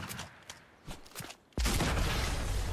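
A shotgun firing in a video game: a few quieter sharp cracks come first, then one sudden, heavy blast that leaves a loud, sustained roar.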